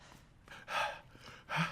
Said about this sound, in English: He's breathing so heavy.